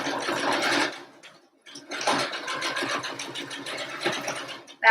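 A home sewing machine stitching across a simple homemade mask, running in two long bursts with a short pause between, steady mechanical whir close up with no talking.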